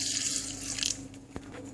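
Water running and splashing into a blender jar of tamarind, coriander leaves, green chilies, ginger and salt for Sindhi chutney, a brief hissing pour with a faint drip near the end.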